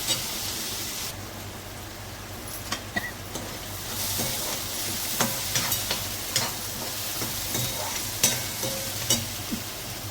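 Turmeric and grated fresh coconut are sautéed with wild suran leaves in a pan, giving a steady, close frying sizzle. Sharp clicks and scrapes of stirring cut through the hiss at irregular intervals, with no one speaking.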